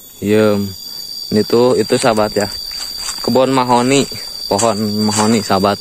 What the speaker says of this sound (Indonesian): Tongeret. Tongeret jangkrik kan ya?